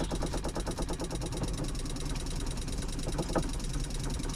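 A campervan's water pump, built into a Ford Transit conversion with a water filter in line, stutters with a fast rattling pulse that steadies into a continuous buzzing drone, close up with no talk.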